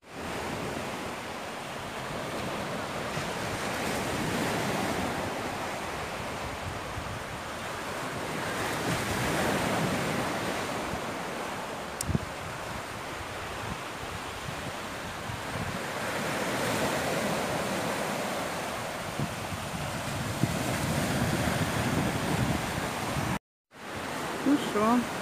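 Sea surf washes steadily onto a beach on a Black Sea resort shore, broad rolling waves swelling and receding under constant wind buffeting the microphone, with a brief dropout near the end.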